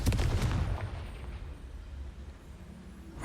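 Bombarda and Confringo spell blasts in Hogwarts Legacy, a loud booming burst at the start that rumbles and fades into a low lingering roar.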